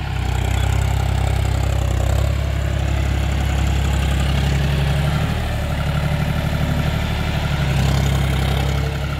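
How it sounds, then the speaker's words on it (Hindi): A John Deere 5105 tractor fitted with a Param rotavator idles at a farm demonstration, its engine holding a loud, steady, low throb throughout without a break. "ये ट्रैक्टर है जॉन डियर 5105 पर"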